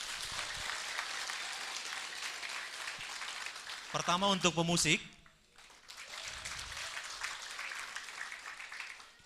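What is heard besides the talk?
audience applause at Christmas celebration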